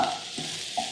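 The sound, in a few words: sausage sizzling while browning in a hot pan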